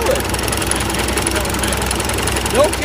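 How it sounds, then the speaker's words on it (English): An old engine runs at a farm show, giving a steady, close mechanical chugging with a knocking vibration. A voice is briefly heard over it. "You could put it in so fast it'll kill the engine."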